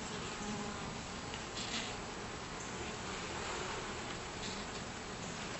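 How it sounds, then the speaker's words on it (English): Honeybees in a top bar barrel hive give a steady, close, low-level buzzing hum throughout, with a slight swell as a comb is lifted out, and no talking. "They all kind of buzzed and then were quiet again."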